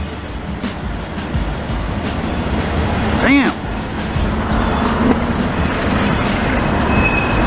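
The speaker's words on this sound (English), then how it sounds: "I almost missed that freight." A Canadian National (CN) freight train rumbles by close and loud in St-Henri, Montreal, with steady rolling noise and a brief rising squeal. Someone speaks briefly over it.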